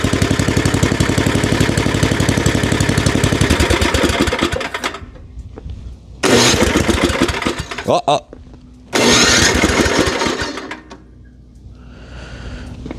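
A Tecumseh snowblower engine fitted with an electric starter cranks and runs loudly, cuts out, then restarts in two more bursts with gaps of near silence between them, ending in a faint idle.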